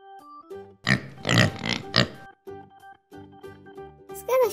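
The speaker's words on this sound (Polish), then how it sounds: "Zgadza się, to jest świnka." Pig-like grunts and oinks sound in short bursts, loud and close, mixed with tonal toy-like notes and a squeal at the end.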